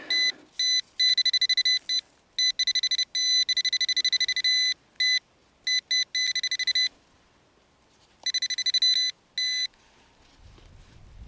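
A metal detector sweeping a field rings over a copper artillery shell head, giving loud, close bursts of steady electronic tone that cut on and off in irregular stutters, with a quiet gap before a final run of beeps.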